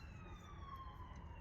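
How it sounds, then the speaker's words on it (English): Ambulance siren passing at a distance, its wailing tone faint and gliding steadily downward in pitch as it goes by. "And here we go, ambulance."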